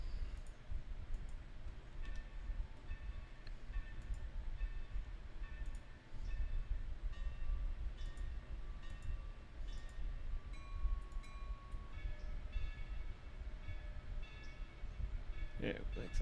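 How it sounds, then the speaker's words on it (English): A long freight train rolls past at a rail yard, a steady low rumble with faint clicks and squeals of wheels and cars, moderately distant and continuous throughout. "This is going to be a freight train."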